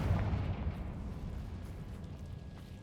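A Confringo fire spell bursts in Hogwarts Legacy, a deep rumbling boom up close that slowly fades into a low decaying roar, with no voices.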